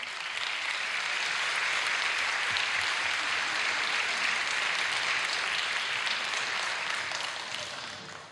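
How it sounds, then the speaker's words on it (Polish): Sustained audience applause filling a concert hall at an international song festival laureates' concert, dense and steady throughout with no talking over it, fading slightly at the very end. "Brawa."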